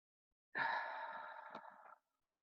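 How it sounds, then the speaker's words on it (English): A single long, deep breath drawn in and let out slowly during a guided relaxation exercise, close and clear, about one and a half seconds long, with no talking over it. "So first we're going to breathe 3 times."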